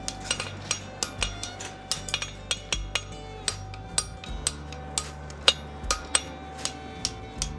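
A horseshoe egg bar being forged on an anvil rings out with sharp metallic hammer strikes in an uneven, rapid rhythm, about two or three blows a second, bright and close with a resonant ring.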